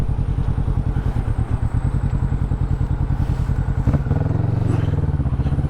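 Kawasaki Vulcan 650S motorcycle running on a ride on a cold day, its engine putting out a steady rapid chugging pulse up close, with a brief clatter and shift in tone near the end.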